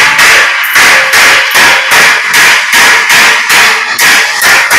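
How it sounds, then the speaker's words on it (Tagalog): Hammer blows ring against a steel door grill, about ten sharp, loud metallic strikes in a steady, even rhythm with no talking. "Kasi martilyuhin mo yan."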